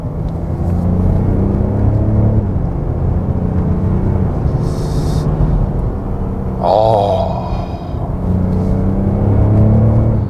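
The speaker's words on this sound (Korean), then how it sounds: "자, 엔진 사운드입니다" A Mercedes-Benz CLS 400d diesel car engine runs with a steady low rumble and hum, rising and falling slightly as it revs, heard close up from inside or nearby.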